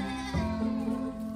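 A goat bleats on a farm where goats are sold, a single drawn-out call rising partway through and holding steady, fairly close and clear.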